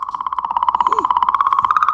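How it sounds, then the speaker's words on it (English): A space recording of comet 67P, converted to sound, gives a rapid, rhythmic pulsing tone that warbles steadily for two seconds, like a clicking electronic chirp. "Huh, this is what a comet sounds like."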